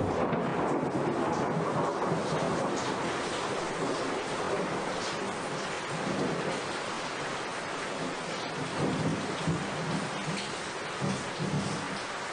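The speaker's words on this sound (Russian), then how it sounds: "Думаешь, этот гром напугает призраков?" Steady heavy rain pours throughout, with low rolling thunder rumbling underneath at night in a house, loud and continuous with no voices.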